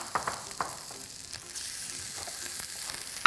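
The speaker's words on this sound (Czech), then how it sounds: "Teď to bude trochu prskat." Beef ribs fry in hot oil in a pan, a close, steady hiss with a few crackling pops, the sizzle growing a little fuller halfway through, with no voices.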